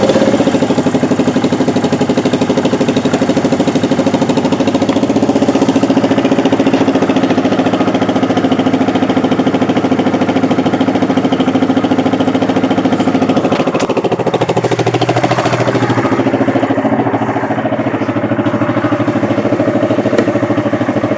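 A 2016 Yamaha Grizzly ATV engine runs with its AIS port blocked off, a loud, close, continuous rumbling idle that shifts slightly in tone partway through.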